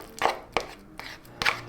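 Bare hands squish and mash ripe bananas in a bowl for vegan brownies, four soft wet squelches spaced apart, close and alone.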